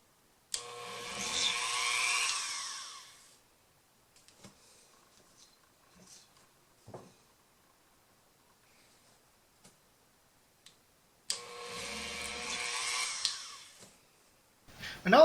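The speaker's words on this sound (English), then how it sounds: "Just drill into it very slowly" A small drill bores slowly and shallowly into the plastic rotor of a 1983 G.I. Joe Cobra FANG toy. The motor whines in two close bursts of about three seconds each, with faint clicks and handling noise in the quiet gap between them.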